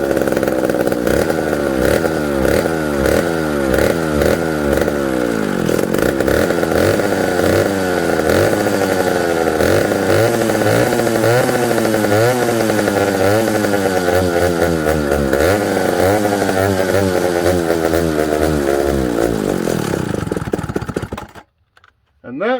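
A vintage McCulloch 1-60 chainsaw engine runs loud and close after priming, its revs rising and falling in a rough, wavering drone before it cuts out near the end.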